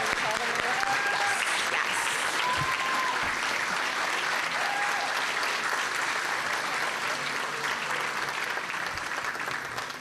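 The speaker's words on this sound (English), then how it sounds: "Give them a big round of applause" At a youth recognition awards event, the audience gives students a sustained round of applause, a fairly distant, even wash of clapping with faint voices and whistles scattered underneath.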